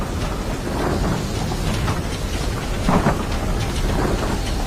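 Thunder rolling through a fierce night storm, with heavy rain hissing steadily underneath and a deeper rumbling swell near the middle; loud, continuous and without voices.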